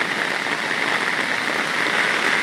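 Heavy rain pours down around a trekking trail, a loud, dense, unbroken hiss of water close by with no voices.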